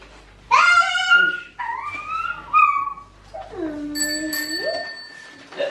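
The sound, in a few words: child ringing a bicycle bell on first bike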